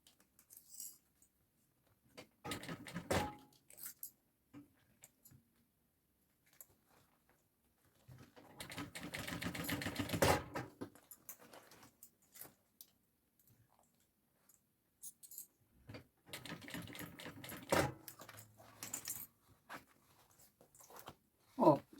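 Bursts of a sewing machine stitching through glued layers of a draped handbag, each run a few seconds of fast rattling separated by quiet pauses, close and moderately loud.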